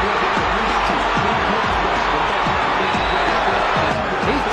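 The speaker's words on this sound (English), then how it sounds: "this crowd rises to its feet and looks for the first round knockout" A boxing arena crowd roars and cheers steadily, a loud, dense wall of voices rising for a hoped-for first-round knockout, with a commentator talking over it.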